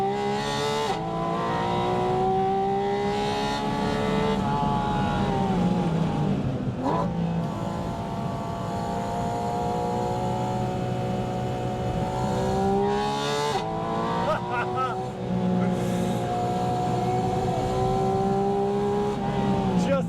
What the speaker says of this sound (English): each pull of the paddle instantly elicits a gear change